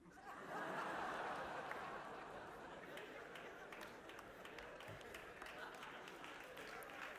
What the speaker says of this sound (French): Pourquoi vous applaudissez ça?